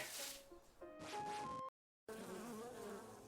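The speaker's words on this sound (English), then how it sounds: "Bees!" An angry swarm of bees pours out of a disturbed beehive in the video game OMORI, a loud, dense buzzing that cuts off abruptly into a brief silence before resuming.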